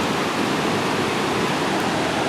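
Water rushes loudly and steadily through the Flume gorge near Whiteface Mountain, a dense unbroken roar close by with no voices.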